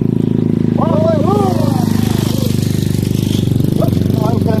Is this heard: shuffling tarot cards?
no